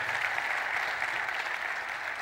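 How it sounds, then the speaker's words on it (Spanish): A church congregation applauds steadily and densely through the whole stretch, a loud, even wash of many clapping hands with no voices standing out. "si van a aplaudir, dénselo al Señor y con ganas."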